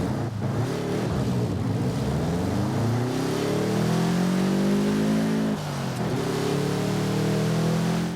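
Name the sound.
Subaru Brat GL engine revving, Forza Horizon 5 video game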